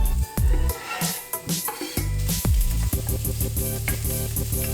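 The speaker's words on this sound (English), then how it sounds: "Heat up some oil, put in the onions and the garlic, stir it for roughly 5 minutes" Onions and garlic frying in hot oil in a big pan, a steady sizzle broken by sharp clanks and scrapes of stirring throughout.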